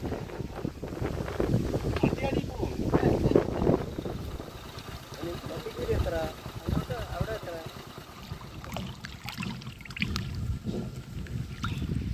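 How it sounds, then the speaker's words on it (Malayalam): Wind gusts and buffets against the microphone in low rumbling bursts while people talk outdoors in hill country at Amboori, Thiruvananthapuram, with faint water noise behind. "നല്ല കാറ്റുണ്ട്."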